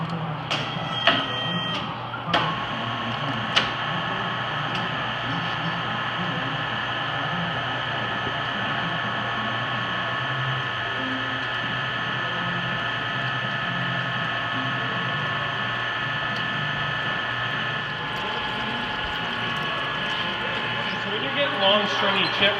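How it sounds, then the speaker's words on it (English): A TOS radial arm drill boring at 50 RPM with coolant, a loud steady machine hum and whine holding constant throughout, with a few clanks near the start and end. "as long as your drill is sharp and you're monitoring the machine, you got coolant on it"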